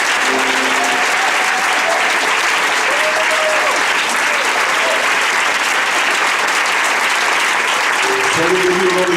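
A church congregation applauds continuously in sustained, dense clapping that fills the room, loud and steady throughout, with faint voices mixed into the crowd.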